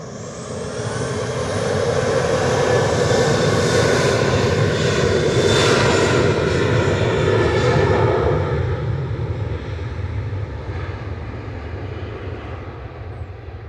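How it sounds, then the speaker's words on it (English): A Ryanair Boeing 737-800 jet departs Manchester Airport with a powerful engine roar that swells to a loud peak midway, then slowly fades and thins as the aircraft pulls away, heard alone without talk. "This is Ryanair heading off to Prague. 737-800 EI EBP, flight 6842"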